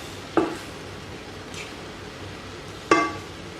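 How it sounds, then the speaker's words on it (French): Chicken marsala with liquid cream is stirred in a pan, heard as two distinct clinks of a utensil against the pan over a soft, quiet background simmer. "On remue."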